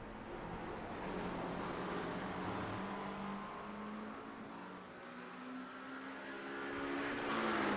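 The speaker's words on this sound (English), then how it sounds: "I think it was Peterson's McLaren we were hearing" The engine of a McLaren GT3 race car in iRacing at the Nürburgring: a steady, droning engine note with shifting pitch as the car works through the track, moderately loud and unbroken, with no voices.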